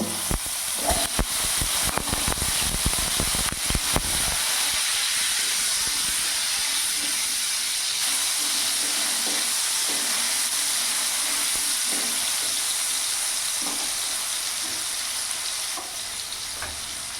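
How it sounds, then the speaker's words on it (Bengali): Cut potatoes frying in hot oil in a pan, a steady dense sizzle and hiss that runs close and loud throughout, with a few clattering knocks near the start and no talking. "এবার ওই তেলের মধ্যে আমি এখানে কেটে রাখা আলুগুলো ভেজে নেব"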